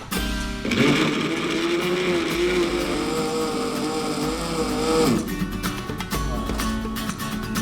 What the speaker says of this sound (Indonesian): gel aloe vera harus dihaluskan terlebih dahulu dengan di blender